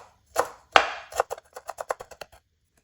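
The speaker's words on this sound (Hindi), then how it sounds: "धनिया को भी काट लेंगे" A knife chops coriander finely on a board: a couple of heavier cuts, then a quick, even run of close, crisp taps that fade out, with no one talking.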